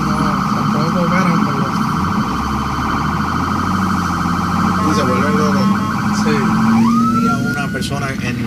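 Ambulance siren wailing loud and steady through dense street traffic at a hospital trauma entrance, sweeping tones sustained across the whole stretch over a rumbling engine and road noise, with a pitch shift near the end.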